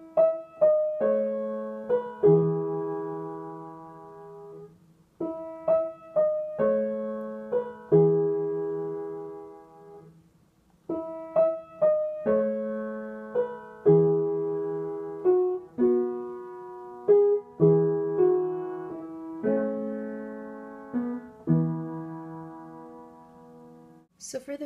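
Slow piano playing of a song with both hands, low bass notes under sustained chords and melody, played deliberately with steady pacing and no talking.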